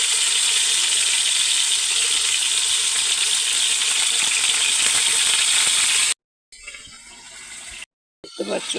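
Potato pieces fry in a pan with black cumin, giving a steady loud sizzle for several seconds before it cuts out abruptly. Quieter fragments of the sizzle follow between brief silences.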